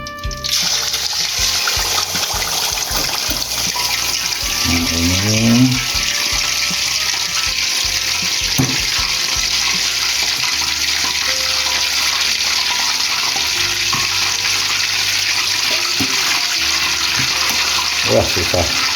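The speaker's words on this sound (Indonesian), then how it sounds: "Sekarang waktunya goreng ayam yang sudah dimarinasi." Marinated chicken pieces fry one by one in hot oil for a spicy chicken dish with potatoes and green beans, a steady close sizzling hiss running throughout, with a person talking briefly over it.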